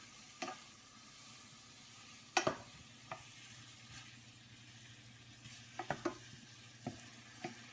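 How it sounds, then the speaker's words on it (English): A saltfish and dumplin mixture being stirred in a pot: faint background hiss with scattered utensil clinks and knocks, a cluster around the middle and more toward the end. "Then you're going to mix that up."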